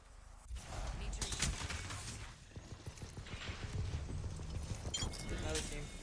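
Gunfire from an enemy team in a video game crackles in quick bursts and scattered shots amid game effects, with players talking over the action.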